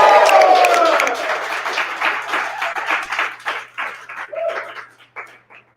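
Loud crowd applause and cheering at a storytelling fundraiser swells at the start, then thins into scattered individual claps and a few whoops that taper off.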